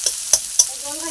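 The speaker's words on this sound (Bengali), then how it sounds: "কড়াইতে তেল দিয়ে পেঁয়াজ গুলো ছেড়ে দেবো" Onions fry in a little oil in a wok, giving a soft, steady sizzle broken by two or three sharp scraping stirs, close and fairly quiet, with no talking.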